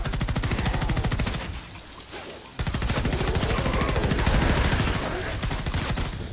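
Rapid automatic gunfire from the Fortnite Save the World video game, dense bursts of shots at a fast rate with a brief lull partway through, then steady firing again, loud and continuous with faint talk underneath.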